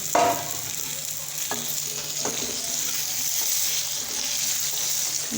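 Raw mango pieces stirred into a turmeric and red chilli spice mix in a hot pan, a steady sizzle with a few scraping stir strokes near the start.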